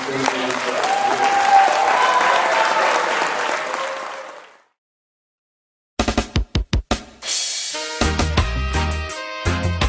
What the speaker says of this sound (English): What type of applause?